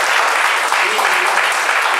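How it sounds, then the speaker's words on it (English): An audience at a 17th Ward community meeting claps steadily in a dense, sustained round of applause that holds at an even, loud level throughout. "a round of applause for the candidate"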